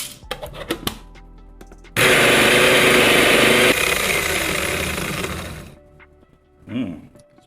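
An espresso machine with volumetric dosing brews a shot of Ethiopia Nensebo Bildimoo coffee. A few clicks give way to a loud, steady pump drone of about four seconds, which then shuts off, followed by a soft trickle.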